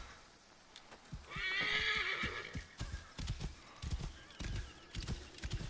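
A horse in Assassin's Creed Origins whinnies loudly with a rising, shrill call, followed by steady hoofbeats clip-clopping along, close and clear.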